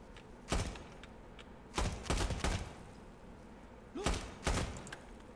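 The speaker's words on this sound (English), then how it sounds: "Someone's shooting." Gunshots in the tactical shooter Insurgency: Sandstorm, a few separate bursts of two or three reports each, fairly distant and muted over a low ambient background.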